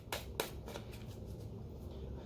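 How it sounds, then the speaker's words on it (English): A deck of tarot cards is shuffled by hand, giving a few sharp riffling snaps at the start and then a steady soft shuffling rustle close by, with no talking. "These cards really shuffle nicely."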